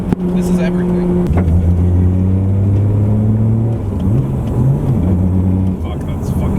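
A 900+ hp Nissan R34 GTR with an RB26 engine, right-hand drive, revs hard while driving, its loud engine tone climbing and dropping through gear changes, with voices talking over it.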